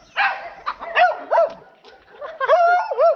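Dogs barking on an upper floor of a home: several close, loud yips and barks come in quick bursts with brief gaps between them, and a few whimpering, rising notes mixed in.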